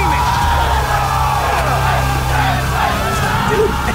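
A crowd yells, whoops and cheers continuously over a pounding music bed in a trailer for the film Space Waves, loud and dense throughout with no clear gaps.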